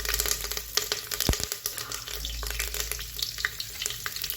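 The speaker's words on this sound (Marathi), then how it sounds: "तेल चांगलं गरम झालं की टाकणार आहे जिरी मोहरी, त्याच्यानंतर टाकणार आहे कढीपत्ता," Cumin, mustard seeds and curry leaves sizzle in hot oil for masale bhat, a steady broadband crackle with a sharp spatter burst near the middle, close and fairly loud, with no talk.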